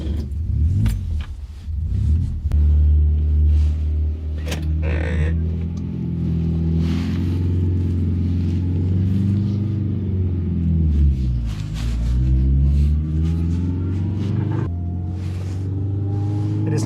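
A Skoda 105S car drives along with a deep, rumbling engine note that swells and falls as it revs through the gears, close and steady, with occasional knocks and faint talk in the cabin.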